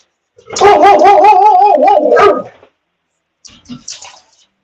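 A dog indoors gives a loud, close run of rapid barks and yips lasting about two seconds, followed by a few fainter, shorter yelps.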